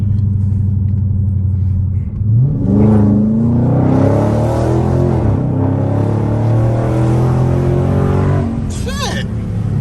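A Dodge Scat Pack engine rumbles loudly from inside the car, its pitch climbing as it accelerates and revs, with people talking over it.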